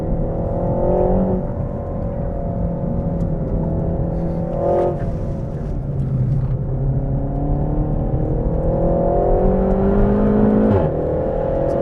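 A Renault Sport Megane Trophy with about 300 bhp and its standard exhaust drones loudly and steadily on a track, its engine note rising and falling as it revs through third gear, heard from inside the car.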